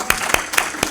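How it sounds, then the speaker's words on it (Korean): A few slow, separate hand claps ring out in a church congregation, about four broadband strikes spaced roughly a quarter second apart over a soft room background, given as a blessing for the elderly elders of the church. "여러분 축복의 박수 한번 보내주시면"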